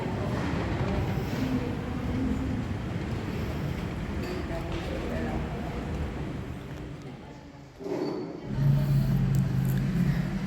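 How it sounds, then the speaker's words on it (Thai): A tram rolls downhill at Phra Nakhon Khiri in Phetchaburi, giving a steady, close rumbling drone that holds for the whole stretch and swells near the end. "นี่คือรถรางครับที่กำลังลงมา"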